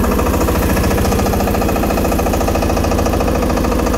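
Massey Ferguson 5118 mini tractor engine running loud and close, a steady throbbing diesel rumble with rhythmic knocking pulses held throughout, with no talk.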